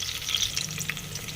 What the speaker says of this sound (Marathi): कांदा चांगला लाल झालाय आपला, त्यामध्ये घालायचे कढीपत्ता, चांगलं परतून घ्यायचे